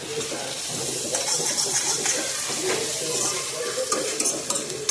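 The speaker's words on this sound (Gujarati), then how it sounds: "ત્યાંની પહેલાં આપણે આદુ લસણ કોબી પછી કેપ્સિકમ આ વસ્તુ નાખી દીધી છે. હવે આને પાકવા દેવાનું છે આપણે." Ginger, garlic, cabbage and capsicum frying in a kadai for manchurian, a loud steady sizzle with scraping stirring and clinks of a spatula against the pan, close up and without speech.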